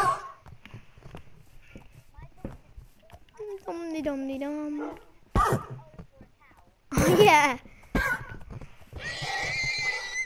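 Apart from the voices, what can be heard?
horse neighing and hooves in the video game Minecraft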